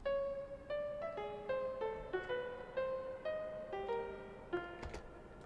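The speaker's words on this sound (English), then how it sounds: "So this example of a 12-tone row sounds like this." A 12-tone row melody played in Cubase for spooky composition: a sequence of single sustained synth notes, one after another at an unhurried, slightly uneven pace, each with a clear harmonic tone and no accompaniment.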